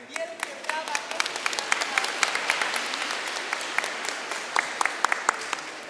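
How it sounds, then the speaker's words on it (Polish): Applause at a school year opening ceremony in a Polish secondary school, a crowd clapping with many distinct sharp claps over a steady wash, swelling then tapering slightly, with some voices mixed in. "Wielkie brawa."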